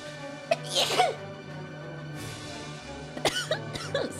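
Several sneezes from a VTuber character, one burst early on and a pair of quick sneezes near the end, each short and loud over a soft steady hum.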